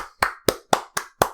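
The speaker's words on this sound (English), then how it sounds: "Those claps are very loud" Five loud, sharp hand claps close by, evenly spaced in a quick steady rhythm, each ringing out briefly before the next.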